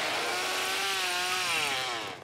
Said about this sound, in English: Can I swing the chainsaw at him?